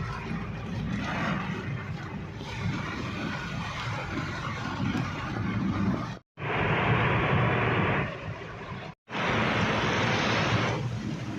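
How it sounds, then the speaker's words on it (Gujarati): Heavy rain pours down along a highway near Bhavnagar, with water running from above. It makes a dense, continuous roar, heard from inside a vehicle and broken by two brief silent gaps. "ઓળો વરસાદ હતો ને ઉપરથી પાણી ચાલતું"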